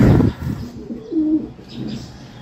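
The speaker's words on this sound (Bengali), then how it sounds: "এত ছটপটে কবুতর" A lively pigeon coos close by, a low throaty rolling call that rises and fades over a couple of seconds after a brief rustle at the start.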